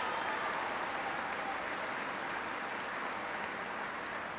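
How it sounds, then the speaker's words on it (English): Steady applause from an audience at a college affordability event in Lackawanna, a continuous even wash of clapping at moderate distance with no voices over it. "Give him a big round of applause."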